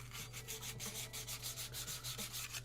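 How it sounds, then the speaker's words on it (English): Fine 1000-grit sandpaper rubs over a hobby figure being kitbashed. Quick, even back-and-forth strokes repeat in a soft, close rhythm. "1000 grit sandpaper."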